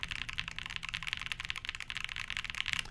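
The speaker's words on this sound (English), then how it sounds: "What switches? These are the KeyGeek Y2 switches." Rapid, steady typing on a custom Flybeck Zoku mechanical keyboard with KeyGeek Y2 switches, a dense run of deep, muted clacks heard up close with no voices.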